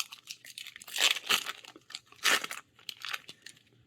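A Magic: The Gathering Throne of Eldraine booster pack wrapper torn open and crinkled, with bursts of foil crackling and ripping at close range and no voices.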